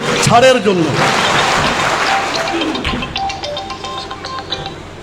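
A large crowd of teachers at a gathering applauds a head teacher, a steady wash of clapping with a voice calling out at the start.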